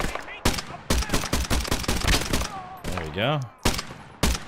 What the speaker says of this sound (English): there's a pretty healthy firefights